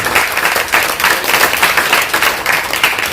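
An audience at a spiritual discourse breaks into applause, a thick continuous patter of many hands clapping at once, loud and fairly close, with no talking over it.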